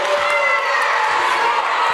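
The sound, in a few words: crowd booing a referee's foul call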